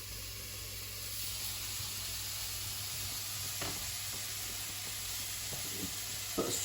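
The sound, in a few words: tomato added to a sizzling pan for ratatouille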